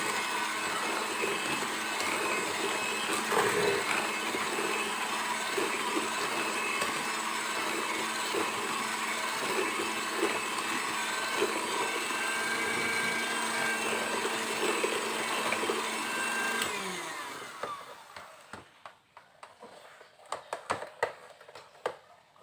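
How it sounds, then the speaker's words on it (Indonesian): An electric mixer beats pandan bika ambon batter in a steady, loud whir that runs for about seventeen seconds, then cuts off, leaving faint clicks and handling knocks. "Jadi di mixer ini nggak boleh lama-lama, cukup 1 menit aja."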